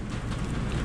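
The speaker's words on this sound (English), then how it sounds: "and we got rain" Rain falling outdoors, a steady dense patter with low rumbling underneath, continuous and fairly close, no voices.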